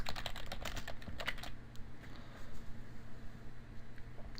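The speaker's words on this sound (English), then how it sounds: "for this title we're just going to type in" Keys rattling on a computer keyboard in a quick burst of close taps that thins out partway through, leaving a faint steady hum, with no talk.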